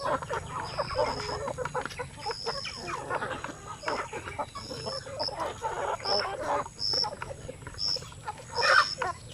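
Black chickens clucking, a flock of farm fowl giving repeated close clucks and chatter with busy overlapping calls, mixed with background noise.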